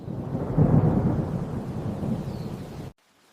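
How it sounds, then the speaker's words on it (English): Steady, dense rain roar with deep rumbling underneath, loud and continuous, then cutting off abruptly into near silence. "The rain falls on the forest."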